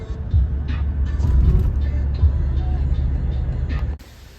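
Steady low road rumble from inside a moving car on the way to the grocery store, continuous and fairly loud with no talking, dropping off abruptly near the end.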